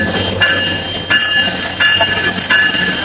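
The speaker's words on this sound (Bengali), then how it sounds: "এটা হচ্ছে ট্রেনের বগি দেখেন একটা মানে হেড যাচ্ছে" A train at Lalmonirhat railway station, Bangladesh, rolls past close by, a steady rumble with rhythmic clatter every second or so as carriages go by, no voices.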